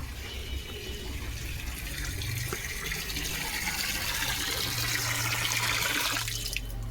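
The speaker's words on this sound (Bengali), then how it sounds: "আমি এখন বালতিটা ভরে নিয়ে আসবো।" Water pours steadily into a bucket at an outdoor tap, a continuous close rushing splash that deepens in pitch as the bucket fills.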